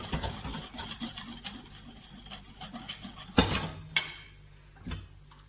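A utensil stirs cream in a bowl for homemade ice cream, making rhythmic scraping and clinking against the side, with a few sharper knocks toward the end and no talk over it.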